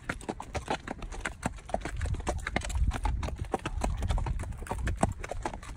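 Horse hooves clip-clop at a steady walking pace on a hard trail, close by and continuous with no voices.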